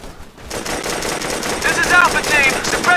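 Sustained automatic gunfire from a combat scene in the video game Operation Flashpoint: Red River, loud and continuous bursts rattling on with radio-style voices talking over the fire.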